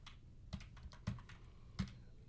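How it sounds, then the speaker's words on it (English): Keys on a computer keyboard tap quietly, with three distinct presses of the down arrow key spaced about half a second apart over faint background noise. "I'm going to push the down arrow on the keyboard."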